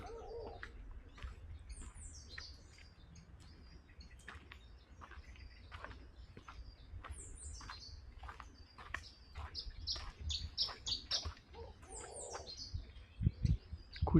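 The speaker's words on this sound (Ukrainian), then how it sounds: "куча гнізд, пташків" Many birds chirp and tweet around a big tree at Playa de Castro, a busy chorus of sharp calls, some near and some farther off, over a low outdoor rumble, growing denser toward the end.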